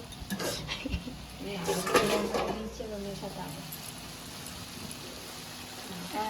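A lid clinks and scrapes as it is lifted off a pot of cooking chicken kosha, a brief clatter over a steady background hiss, with people talking nearby.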